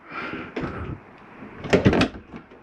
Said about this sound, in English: I'll go ahead and again secure this door.